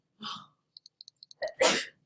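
A single sharp sneeze bursts out close by, preceded by a short inhale and a few faint ticking clicks.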